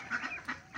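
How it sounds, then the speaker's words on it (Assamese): Ducks kept for egg laying give a few faint, quick honking quacks in a short run, with no voices. "সেইটো কণীৰ কাৰণে ৰখা হাঁহ"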